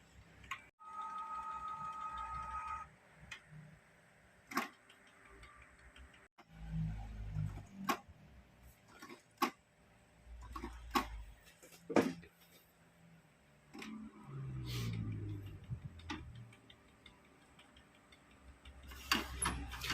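An old Canon inkjet printer, long unused, with a clogged print head, ink not flowing and a full ink absorber, runs a print head test: steady mechanical clicking and ticking with carriage whirs and occasional low thumps.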